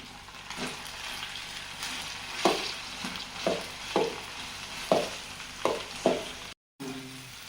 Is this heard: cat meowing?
no